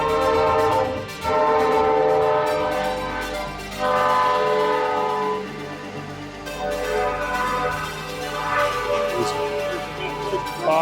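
A train horn blares in long, loud blasts over the steady rumble of a passing train, close by and continuous.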